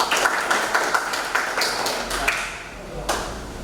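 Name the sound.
class clapping hands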